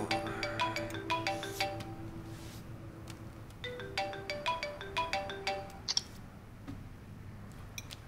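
A telephone rings in repeated electronic tonal bursts with a pause between ring cycles, moderately loud and close, followed by a few soft clicks and handling noises near the end.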